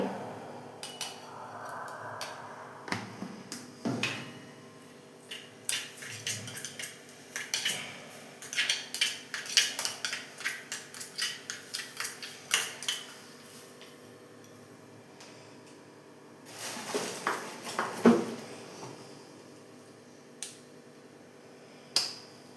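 A spoon mixes two spoonfuls of ghee with oil for masala dosa, giving a run of light, irregular clicks and taps against a bowl, clustered in bursts with brief pauses, close and fairly quiet with no talking.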